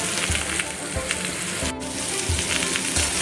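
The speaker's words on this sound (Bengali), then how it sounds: "এঁচড়টাকেও আমি একটু সময় নিয়ে ভেজে নেব" Boiled jackfruit frying in a pan with salt, a steady close sizzle running throughout with occasional stirring scrapes and a brief louder burst near the middle.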